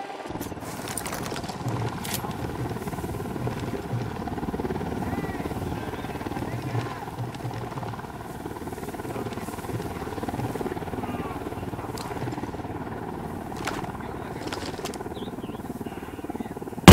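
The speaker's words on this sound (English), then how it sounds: "Chopper's approaching." A helicopter approaches in the Ghost Recon Wildlands video game: a steady, dense rotor and engine roar that holds constant throughout, with faint voices and a few brief clicks on top.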